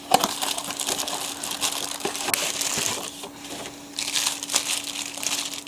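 A 30 W LED floodlight is unpacked from its plastic bag, giving close crinkling and crumpling of plastic in uneven bursts with short pauses and no speech.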